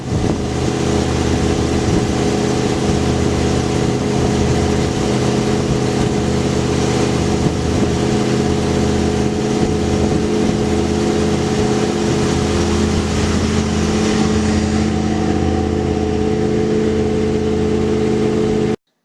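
A Ford Crown Victoria with modified dual exhaust and 3.5-inch pipes idles loudly, a deep, steady rumble that holds close and constant before cutting off at the end.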